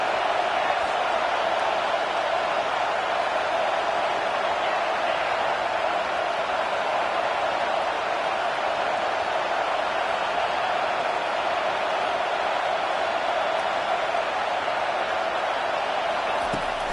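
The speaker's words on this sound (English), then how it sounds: "Decibels rising as the crowd gets behind this defense on 3rd down." Stadium crowd at a football game cheering for the defense on third down, a loud, sustained roar of massed voices holding steady throughout with no break.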